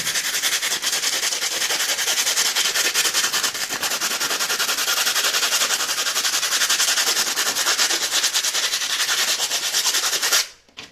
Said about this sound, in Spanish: ya está lista para ser lijada